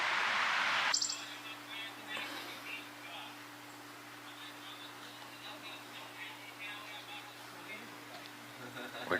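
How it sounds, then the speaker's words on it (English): A chipping sparrow sings outdoors along the Appalachian Trail, its thin chirps faint and distant over a steady low hum and background noise. "That's the chipping sparrow right there."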